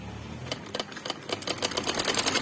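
Sewing machine stitching fabric for a shalwar: rapid mechanical clatter starting hesitantly, then running in a quickening, steady chatter of needle strokes, close and without speech.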